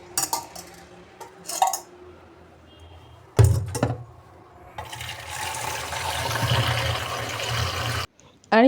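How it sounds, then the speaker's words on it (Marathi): A tea cup gets rinsed and filled with water in a home kitchen, with a few clinks of crockery first, then a stretch of steady running water that stops abruptly. "ते ना यूज केल्याच्यानंतर पटकन त्याला ना पाण्याने धुवून त्यामध्ये पाणी भरून ठेवायचं"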